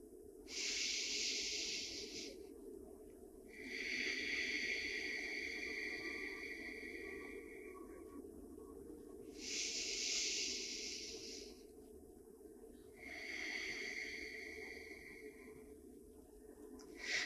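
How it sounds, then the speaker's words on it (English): Slow, deep breathing during a yoga session, four long airy breaths alternating inhale and exhale, close and soft over a quiet background hum. "We'll take 2 more deep breaths here."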